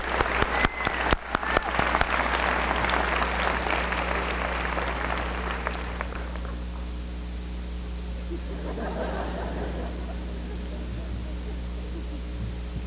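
Applause from a large audience at a 1985 high school graduation ceremony, a dense steady clatter of many hands with a few sharp claps at the start, slowly thinning and fading toward the end over a low room hum.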